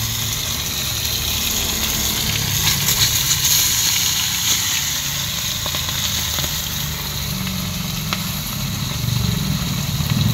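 Continuous crackling sizzle of bisugo fish frying in hot oil, close and steady with a low background hum.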